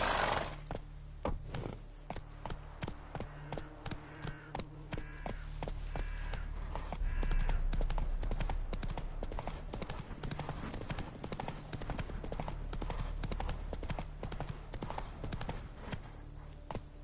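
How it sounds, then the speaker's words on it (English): Hooves of a galloping horse in a video game beat in a fast, steady clip-clop rhythm throughout, fairly quiet overall, with a brief spoken word. "Run, Roach"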